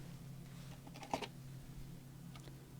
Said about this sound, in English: Just snip that off.